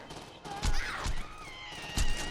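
Gunfire in the Saints Row 2 video game, a few separate heavy shots spread across a couple of seconds, moderately loud over a busy game soundtrack and background effects.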